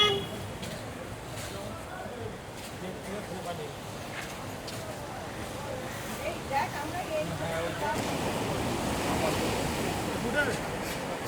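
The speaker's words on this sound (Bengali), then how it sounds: "এখন ঢেউগুলো আসছে, খুব আছড়ে আছড়ে পড়ছে, জোয়ারের জল বেড়েছে" Sea waves surge and crash onto the beach at Digha at high tide, a broad continuous roar that swells louder toward the end, with wind buffeting the microphone.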